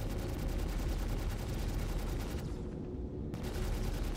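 Rapid gunfire in Star Citizen rattles on in a dense, continuous burst, with loud repeated shots that briefly thin out near the end, and no one speaks.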